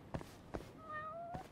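A cat meows in the video game Judgment: three short, clear meows spaced evenly apart, a soft whistling tone sliding in between, quiet and close, with no talk.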